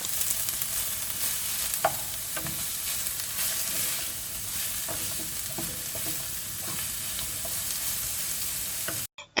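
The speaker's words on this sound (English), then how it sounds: "heat 2 tablespoons of oil in a pan on low heat. Add chopped onion, cook for 1 minute." Chopped onion cooking in oil in a pan over low heat for a samosa filling, a steady, close sizzle with scraping stirs and a few sharper pops, ending abruptly.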